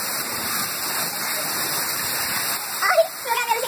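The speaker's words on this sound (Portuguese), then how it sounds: "Ah, aumentou mais a chuva, não foi, Alane?" Heavy rain falls steadily over Fortaleza, a dense continuous hiss that stays even throughout, with a few louder spatters and drips near the end.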